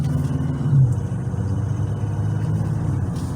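A 2021 Jeep Gladiator EcoDiesel truck drives toward a four-lane highway, its engine a steady low rumble with a brief swell of revving, heard from inside the cab without talk.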